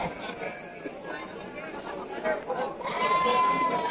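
Male goats bleating at a livestock market, several short calls rising over a dense, noisy crowd of chattering people and trading voices.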